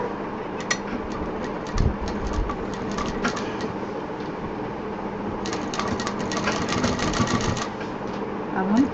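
Sewing machine stitching piping onto a handbag, a rapid mechanical rattle running steadily with brief pauses, close by, with a voice speaking at times.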